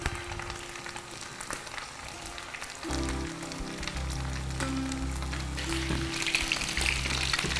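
Noodle-wrapped snacks fry in hot oil with a steady crackling sizzle that grows louder and busier after a few seconds, close up with no talking.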